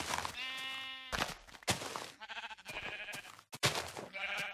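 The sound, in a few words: grey sheep bleating in Minecraft video game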